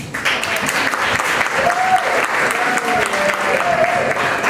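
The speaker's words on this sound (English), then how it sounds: "Another round of applause for her." Wedding guests clap after a reception speech, dense and steady applause filling the room for several seconds, with scattered cheers and voices mixed in.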